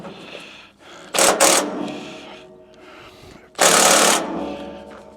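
An air impact gun works on the oil drain plug of a Chinese mini excavator, firing two loud bursts of rapid hammering, a short double burst and then a longer one, separated by quieter background hum.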